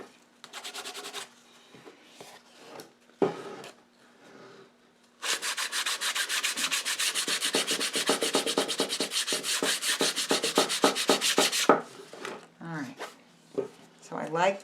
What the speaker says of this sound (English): I'm just using a very fine sandpaper